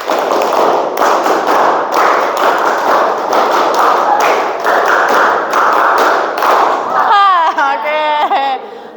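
Group of students in a classroom clapping rhythmically in unison, a loud sustained stream of repeated claps, ending with a voice speaking over the last moments.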